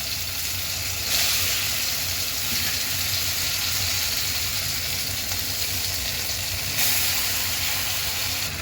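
Amla paste fries in ghee in a kadai, giving a loud, even, hissing sizzle that swells briefly twice.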